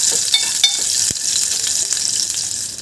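Green chilli and garlic sizzle steadily in hot oil with a bright, dense crackle, broken by a few soft stirring knocks, close and without talk.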